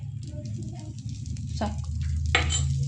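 Set dosa sizzles and fries in a little oil on a pan, a soft continuous crackle close by with brief scraping stirs, under a low background hum.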